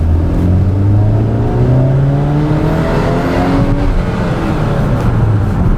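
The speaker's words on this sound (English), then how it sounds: "we're going to accelerate the car through this gear" A 2012 GMC Terrain accelerates hard through a single gear, its engine note climbing steadily and loudly from close by with no other sounds.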